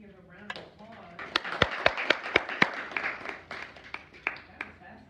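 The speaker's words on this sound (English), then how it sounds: "Let's give a round of applause." Audience at a historical society general meeting applauds a park ranger's talk on Naval Live Oaks: a burst of scattered, sharp hand claps that swells, peaks briefly, then thins out over a few seconds.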